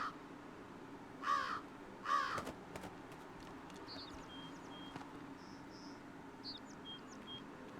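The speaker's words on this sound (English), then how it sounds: "Bird." A crow-like bird caws twice in the game Jenny LeClue Detectivu, harsh calls a second apart over a steady bed of insect and cricket ambience, with faint higher chirps afterward.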